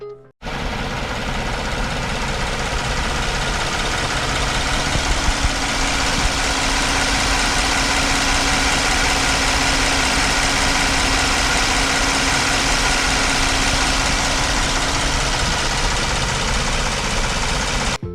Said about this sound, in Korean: 엔진음은 상태 원본으로 들려드리겠습니다